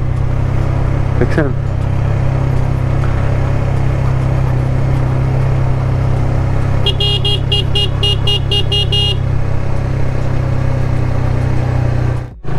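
A car engine drones steadily as it climbs a winding hilly mountain road from Bandarban to Nilgiri, with a brief chirping alarm-like tone partway through and someone speaking over it.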